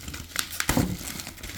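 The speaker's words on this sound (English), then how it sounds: "We'll open up the tape and the bubble wrap and everything." Tape and bubble wrap are pulled off while a small figure is unboxed, giving crinkly plastic rustles and a sharp crackling tear close by. The sounds are quiet, scattered and come with no talking.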